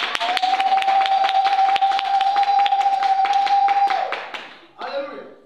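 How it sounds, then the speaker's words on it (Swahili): A congregation claps in a steady rhythm at a church service over a sustained droning tone, then the clapping stops and a voice follows. "Naomba mpigie makofi kwa utii wenu."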